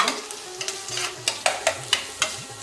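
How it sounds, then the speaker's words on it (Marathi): Besan (gram flour) with crushed garlic being roasted and stirred in a pan, giving soft dry scraping strokes and faint sizzle, with about six crisp spatula scrapes landing in a loose rhythm, close by with no talk. "दुसऱ्या ठिकाणी थोडं बेसन भाजून घ्यायचंय"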